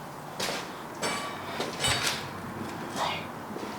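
A door in an old, abandoned house is tried, giving several short rattles, knocks and scrapes in uneven bursts, close by with faint room noise between.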